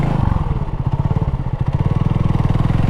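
A Honda CB250RS motorcycle turns around at a road junction, its engine close and loud with a steady, throbbing low-speed beat and a few light clattering noises. No voices are heard.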